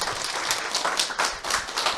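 Seminar audience applauding together, a dense, steady wash of many hands clapping with slight surges, filling the room without any voices on top.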